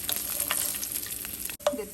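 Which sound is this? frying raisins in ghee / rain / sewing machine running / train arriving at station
frying raisins in ghee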